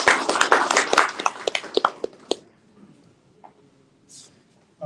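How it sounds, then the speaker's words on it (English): Sparse applause from a small audience at a women's empowerment and education event, a quick burst of claps that thins out and fades into near quiet, with faint sounds after. "big round of applause for my Bhabhi Sabrina"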